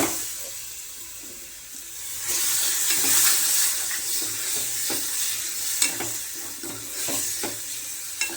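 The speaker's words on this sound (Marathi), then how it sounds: "हे थोडासा मसाला शिजण्यासाठी टाकते" Masala for a black pavta curry sizzles and fries in a pan while being stirred, with a steady close crackle and occasional scraping taps, no talking.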